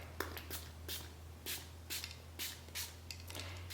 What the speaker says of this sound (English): so now I'm gonna spray it with the blue spray.